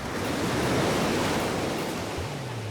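Sea waves at a beach roll in a continuous loud broadband wash of surf, steady with a slight swell and no talking.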